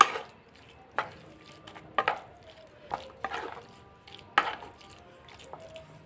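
Cheese being mixed into a cooled potato and vegetable patty filling, a run of separate soft knocks and scrapes of a spoon against a bowl, close and moderately loud, with no voice.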